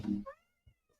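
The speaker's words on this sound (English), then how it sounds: "Oh, hi, kitty." A house cat lets out one short, fairly faint meow that rises and then trails off, followed by a couple of soft small sounds in an otherwise quiet room.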